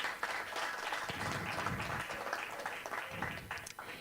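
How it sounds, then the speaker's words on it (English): Round of applause at an Earth Hour energy event as a speaker is introduced, steady moderate clapping from a small audience, fairly faint. "Can we please give him a round of applause?"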